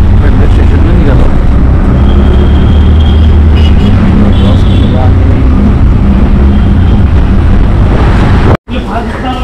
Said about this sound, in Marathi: आपण रिक्षात आहोत.